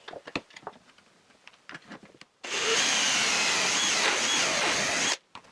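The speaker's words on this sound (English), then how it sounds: "This homemade drilling jig worked quite well." A drill bores holes through a homemade drilling jig in one steady, loud whirring run of about three seconds, preceded by scattered light knocks and handling clatter at close range.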